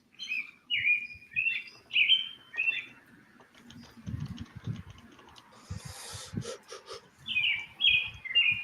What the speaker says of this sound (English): I thought birds were supposed to go to sleep at nighttime.